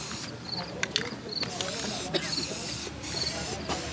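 An aerosol can sprays white paint at an art show, with several short bursts of hissing spray and rattling clicks, close and loud, while people talk nearby.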